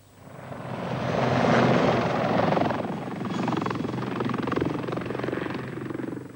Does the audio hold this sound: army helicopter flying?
yes